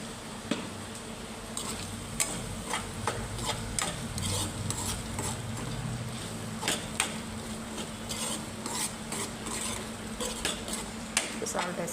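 Okra and egg fry being stirred in a pan, repeated sharp scrapes and clinks of a utensil against metal over a soft continuous sizzle, close and steady throughout.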